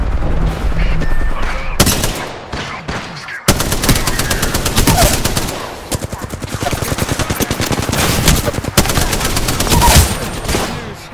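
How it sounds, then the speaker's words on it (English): Relentless rapid automatic gunfire from the video game Apex Legends, loud and close, with bursts of shots rattling almost continuously and a couple of abrupt cuts between volleys. "Opening fire. Getting shot."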